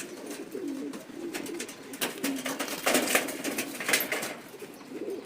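Racing pigeons in a club loft coo repeatedly at close range, soft throaty calls mixed with occasional rustling and wing movement.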